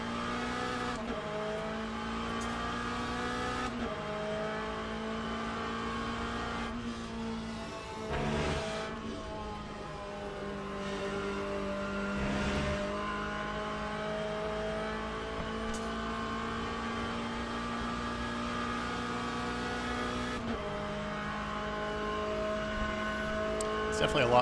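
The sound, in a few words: race car engine in Le Mans Ultimate video game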